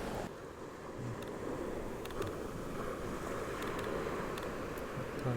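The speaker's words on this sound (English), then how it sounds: "we're on a really windy beach and we don't have a sock for the microphone" Constant low rumbling buffet of wind hitting an unshielded microphone on a windy beach, with faint surf-like noise in the background and no voices.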